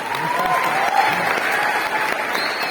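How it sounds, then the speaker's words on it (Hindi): Stadium crowd at Indira Gandhi Stadium applauding steadily, a dense continuous wash of clapping at full strength throughout, with faint voices mixed in. "यहाँ खड़े होकर लोग ताली बजा रहे हैं"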